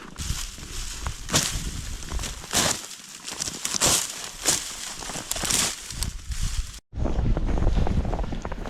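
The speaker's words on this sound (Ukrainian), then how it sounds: "Починається знову вітер, якийсь сніг." Strong winter wind gusts buffet the microphone outdoors while ice fishing, with a steady roaring rush, cut by a brief dropout before surging again. No voices.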